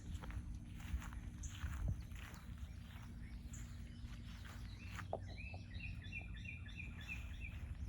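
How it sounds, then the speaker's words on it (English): Scattered high chirps and short whistled bird calls over a low rumbling background, with crunchy footstep-like noises early on. "Just listen to the birds. They sound so nice."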